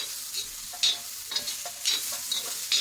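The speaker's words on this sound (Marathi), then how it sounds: "तो फिरून घेऊ आपण टॅमॅटो मऊ व्हायला पाहिजे" Finely chopped tomato fries on a hot tawa under a constant low sizzle, broken by about half a dozen rhythmic scraping strokes of a spatula stirring the pan.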